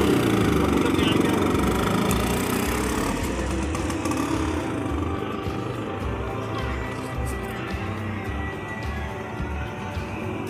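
A Bajaj scooter engine runs steadily through a short ride, a continuous loud mid-range drone with wind noise, louder at first and then settling to an even level.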